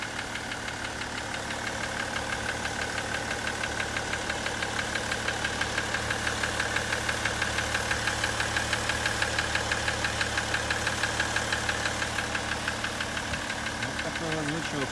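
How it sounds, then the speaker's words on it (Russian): A BMW M57 diesel engine in a 535d runs with a steady rhythmic knock throughout, close and constant over the idle drone, with low-level talk alongside. "Вот такой вот стучок."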